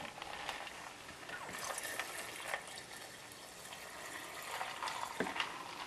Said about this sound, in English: I'm going to add enough water just to fill it to 2 quarts.